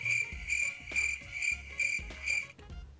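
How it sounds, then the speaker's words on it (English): Electronic cricket chirping effect played from a soundboard during a game stream: rhythmic pulsed chirps repeating steadily for about three seconds, loud and alone. "a soundboard for crickets and stuff"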